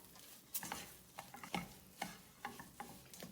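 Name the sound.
stir-frying upma with salt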